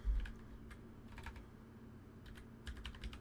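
Typing on a computer keyboard in a word processor, with soft scattered key taps in short clusters close by over a faint steady hum, and no speech.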